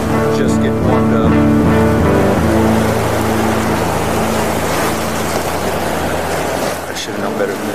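An EF4 tornado storm roars with steady broadband wind and rain, a loud continuous rush throughout, with low engine-like rumble and a faint voice early on.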